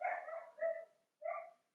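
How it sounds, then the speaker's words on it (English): A dog barks from a distance indoors, three muffled, somewhat hoarse barks in quick succession, the last after a short pause, otherwise quiet. "If you can hear the dog barking"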